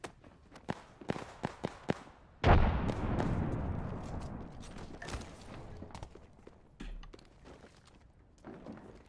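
Frag grenade blast in Apex Legends: a burst of sharp gunshot cracks, then one loud explosion with a long rumbling decay, followed by scattered shots and thuds.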